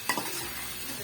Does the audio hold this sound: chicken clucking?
no